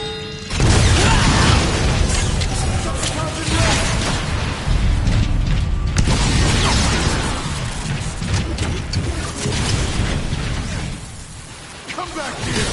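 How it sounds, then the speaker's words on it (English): A grenade goes off in a Transformers video game: loud booms and crashing bursts roll through dense mechanical action noise, with game voices mixed in. "Grenade in the air!"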